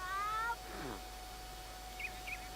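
Cats in the video game The Sims 3 meowing, with one clear drawn-out meow up front followed by several short, fainter chirping meows a little later.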